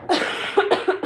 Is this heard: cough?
yes